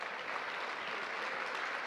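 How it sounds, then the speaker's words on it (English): Audience at a high school scholarship awards night applauding, a dense, even wash of clapping from a large crowd, steady and sustained with no talk. "Mr. Foley, if you give him a big round of applause."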